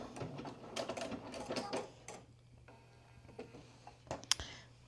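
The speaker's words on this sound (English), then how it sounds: "And sew right along, and then back stitch at either end" A home sewing machine stitches a pants casing with backstitching at each end, making quiet, uneven bursts of whirring and clicking that stop and start close by over a low steady hum.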